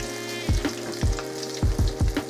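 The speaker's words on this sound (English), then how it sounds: "Once I heard it sizzle, I knew it was time." Cauliflower sizzling and crackling as it fries in hot oil, with several sharp pops and spatters at irregular intervals over a continuous frying hiss.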